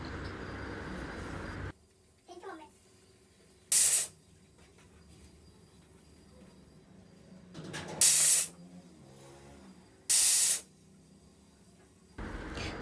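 A pressure cooker boiling matar dal lets off sharp, loud bursts of hissing steam, three brief blasts spaced a few seconds apart over a quiet, low background.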